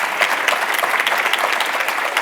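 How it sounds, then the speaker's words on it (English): Conference audience claps for a closing keynote panel, a continuous, dense burst of applause from many hands filling the room, steady and fairly loud throughout. "let's give a big round of applause for our closing panel here"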